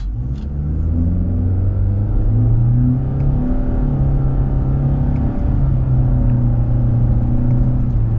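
A 2025 Nissan Altima SR AWD with a CVT transmission drones steadily as it accelerates, the pitch rising smoothly with no distinct gear shifts, loud and close throughout.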